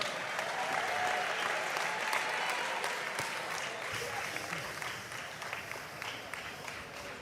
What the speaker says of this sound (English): And a round of applause to his opponent, Bryant Peterson